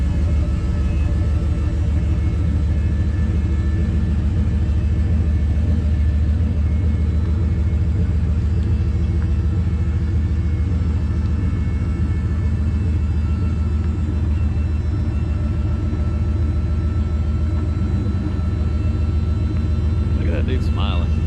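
A custom car called Big Red rolls out of a garage under its own power for the first time, a loud, steady low engine rumble with a throbbing idle that holds throughout, close to the listener.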